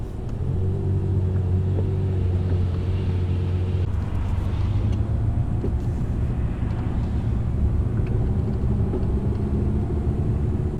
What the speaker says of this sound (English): this car is not very comfortable to drive slowly with in hard traffic like this